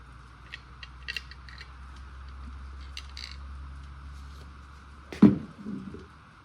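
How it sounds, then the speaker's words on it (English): Bolt cutters cutting a length of material on a 1971 Mustang, a few light metallic clicks and creaks, then one loud sharp snap near the end followed by a brief rattle, in a quiet setting. "I'm just gonna cut it a little extra with bolt cutters if I can"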